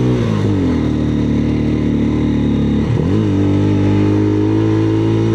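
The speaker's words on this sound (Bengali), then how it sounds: "1 নম্বর গিয়ারে 7000 RPM এ চলে যাচ্ছি।" An engine revs hard in first gear toward 7000 RPM, a loud steady drone that dips briefly and then climbs again, close and continuous.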